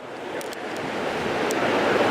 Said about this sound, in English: And I was going to work on it today, but it's like extremely windy.